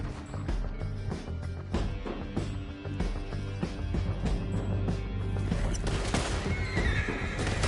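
Horses neigh and whinny with rapid galloping hoofbeats throughout a video-game chase through a canyon, loud and continuous over a busy musical score, with no talk.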